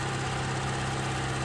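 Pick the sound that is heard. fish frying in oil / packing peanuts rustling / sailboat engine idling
sailboat engine idling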